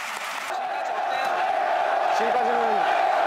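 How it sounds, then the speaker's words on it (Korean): Audience cheering and applause fill a stage area at the close of a lively Army 28th Division military band performance with drum playing, a steady loud crowd roar holding throughout with a few rising shouts near the end. "마지막까지 신명 넘치는 무대에 뜨거운 환호가 쏟아집니다."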